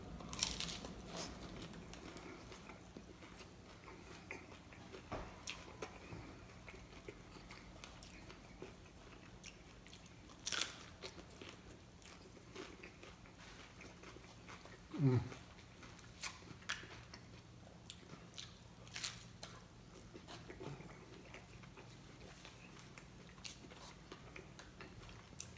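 Someone bites into and chews a sour cream taco close to the mic, with scattered crunchy bites and quiet wet chewing spread across a very hushed background.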